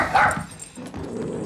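A dog barks and yips in a short, loud burst of a few close barks, followed by a softer whimpering tail, with no talking.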